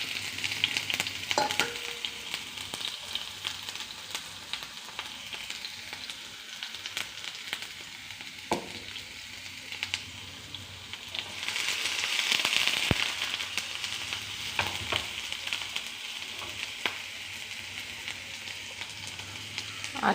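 Onions frying in a pan of oil after mustard seeds have popped, a steady bright sizzle with scattered crackles and pops, swelling louder for a moment midway, close and with no talking.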